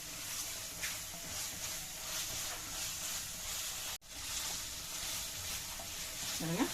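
Mutton liver sautéing in a pan, a steady sizzling fry with occasional stirring scrapes, close and continuous, briefly dropping out midway before resuming.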